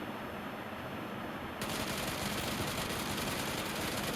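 Sniper fire in a PUBG match on a Bangladesh server: a dense, continuous crackle of gunfire that grows louder and fuller partway through, with no voices.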